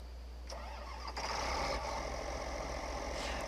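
In the Farming Simulator 2013 video game, a modded John Deere tractor engine cranks and catches, then settles into a steady, fairly quiet idle with a low rumble, heard alone without talk.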